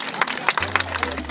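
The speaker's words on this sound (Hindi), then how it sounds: "कुमार के लिए जोरदार तालियां।" Brief crowd clapping greets a runner called on stage at an army running race prize distribution, with a low steady hum entering partway through.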